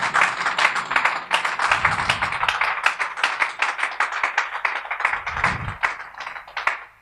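A live audience at a Congolese evening gathering breaks into sustained, dense clapping that stays steady for several seconds, with a few louder individual claps standing out near the microphone.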